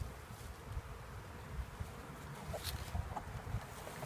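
Honey bees buzzing at a hive during installation of a package, a faint steady drone of many insects with soft rustling and outdoor background, no speech.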